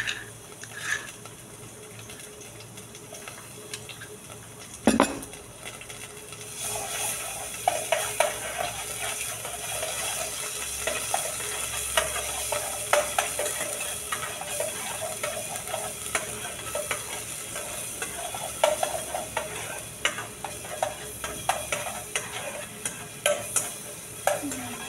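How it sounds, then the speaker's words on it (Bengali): Garlic frying in Dalda vegetable fat, a steady crackling sizzle with repeated scraping and stirring clatters from the pan, close and alone. "ডালডা দিয়ে তারপর রসুন দিয়ে ভাজি করবো।"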